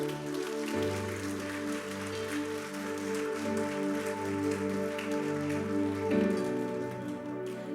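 A church congregation applauds in a steady, rain-like wash of clapping that lasts throughout, layered over sustained keyboard chords that shift partway through.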